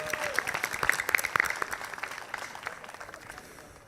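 Applause from an event audience thanking donors at a fundraising gala, a burst of scattered clapping that swells briefly then thins out and fades over a few seconds.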